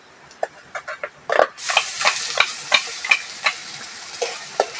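Ginger, garlic, tomato and green chilli paste fries with lightly browned onions, a hiss swelling after the paste goes in, with repeated scraping stirs across the pan throughout.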